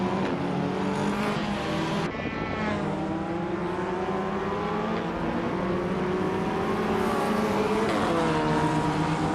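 A 2010 Seat Leon TDI race car in a racing video game drives with a steady engine drone that rises and falls through gear shifts, with other cars audible around it and no talk.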